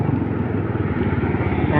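Motorcycle engine running steadily while riding, a push-button-start bike with a faulty battery on the road to an auto shop, a continuous low pulsing drone throughout.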